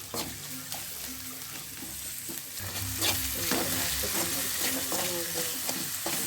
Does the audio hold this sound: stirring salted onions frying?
yes